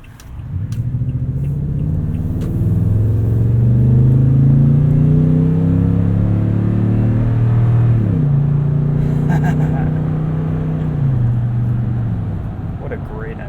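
A 2020 Toyota Tundra TRD Pro CrewMax with a 5.7L V8 accelerates, its engine note climbing steadily and dropping at two gear changes, heard loud and continuous from inside the cab.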